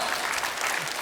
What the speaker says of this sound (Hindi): आरको के लिए जोरदार तालियां हो जाएं